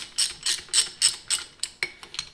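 A hand ratchet tightens locking nuts on a straight-cut gearset, making about eight crisp, evenly spaced clicking strokes close up, with no one speaking.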